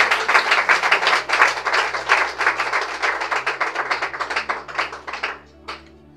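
A church congregation claps in a steady, fast rhythm, loud and close, continuing for several seconds before thinning out to a last few claps.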